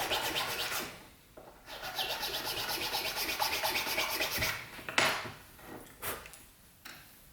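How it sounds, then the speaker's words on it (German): A small file rasps a notch into the edge of a cast model part, giving steady close scraping strokes with brief pauses and a few sharper rubs toward the end. "Sich dann an der entsprechenden Stelle des Gegenstücks eine kleine Kerbe schleifen."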